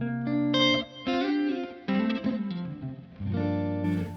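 Electric guitar through a Helix modeler and 4x12 V30 cab, playing chords and sustained notes soaked in lush blooming reverb and delay, tails swelling between phrases, loud and clear with no voices.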